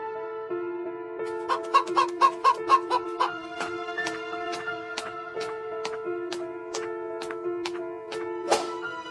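A rooster flaps and clucks in a run of sharp, harmonic calls that bunch into a rapid flurry early on, then space out, ending in a louder squawk; close and clear with no voices.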